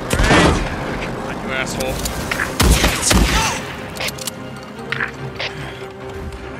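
Gunfire in Days Gone bursts out in loud, scattered shots and blasts aimed at a motorbike, with someone shouting angrily over the chaotic firefight.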